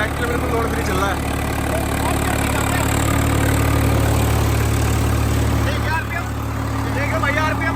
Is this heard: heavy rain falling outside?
no